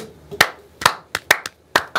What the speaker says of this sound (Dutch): Een applaus voor die gast